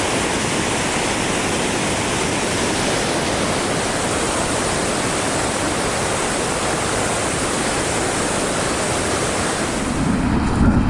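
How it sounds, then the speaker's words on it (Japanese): The Yudaki waterfall in Nikko roars loudly from close range, a dense, constant rush of heavy water that stays steady throughout with no voices. "滝の音がすごいな。"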